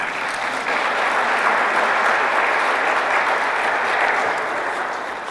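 An audience claps at a STEM opening day event in recognition of a student honored for New Jersey, a sustained, even wash of many hands at moderate loudness throughout, without any voices over it.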